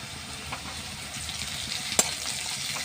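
Grated ginger and garlic fry in a pan, a soft, steady sizzle with a few stirring scrapes and one sharp click partway through, no voices.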